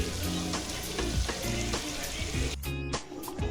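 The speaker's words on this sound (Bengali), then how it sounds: "এখন মশলা ভালো করে ভাজবো যতক্ষণ না তেল ছাড়ে" Spice paste for chicken chaap crackling and sizzling in oil at moderate volume, with soft stirring scrapes throughout.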